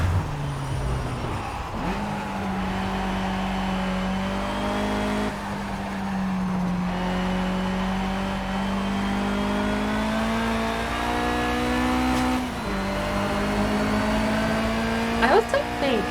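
A Mitsubishi Evo 10 engine holds a steady, droning note while racing around a track in Project Cars, with brief gear changes and a rise in revs near the end, loud and continuous throughout.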